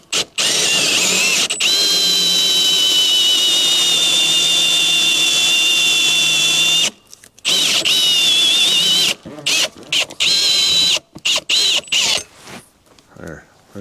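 Power drill with a large hole saw cutting at low speed during a patio project, a loud sustained whirring grind near the mic, then stopping and restarting in short bursts toward the end.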